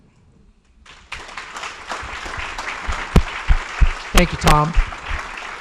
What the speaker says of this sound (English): we ought to give them a big round of applause